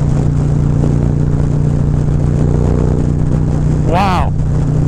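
A Harley-Davidson Road Glide motorcycle with a Feuling 465 cam pulls hard under acceleration, a loud steady engine drone with wind rush and a brief rising sweep near the end, heard from on board.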